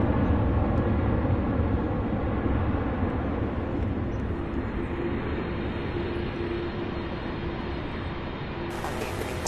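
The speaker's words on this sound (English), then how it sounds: "All right, MD-11 and taxi right behind 747." A low, steady jet engine rumble and broadband roar of an MD-11 taxiing behind a 747 at Louisville International Airport, continuous and moderately distant, with a faint tonal whine appearing partway through.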